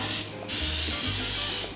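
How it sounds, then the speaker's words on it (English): Olive oil spray can hissing in steady bursts around the inside of a cooking pot, close and loud, with a short pause between sprays. "An olive oil spray, and I'm gonna spray around the pot"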